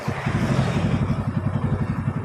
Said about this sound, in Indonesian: ini untuk mesin sudah menyala